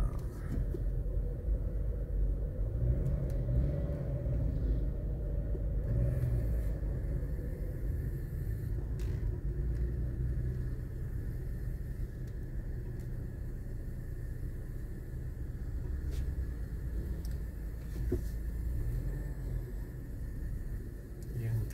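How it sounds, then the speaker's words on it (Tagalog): Street traffic in Manila, with a continuous low rumble of car engines and road noise close by. No clear voices stand out over the steady drone. "Traffic na sa Maynila, walang pinipiling panahon."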